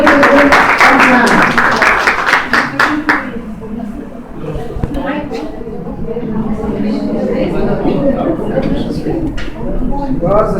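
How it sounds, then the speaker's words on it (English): A group clapping hands in applause, dense close clapping for about three seconds that then fades out, followed by people talking. "I want all of us to clap our hands for this group and welcome them on hand."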